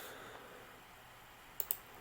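Two quick, faint mouse clicks in close succession over a soft, steady background hiss, with no talking.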